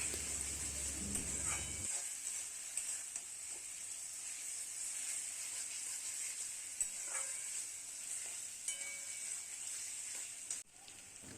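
Ginger garlic paste frying slowly in a pan for a Bengali-style red mutton curry, a faint, steady sizzle with occasional small clicks and a brief low hum at the start.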